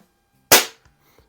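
A Crosman 1701P air pistol fires a single pellet, one sharp close crack that decays quickly, followed by a couple of faint small knocks.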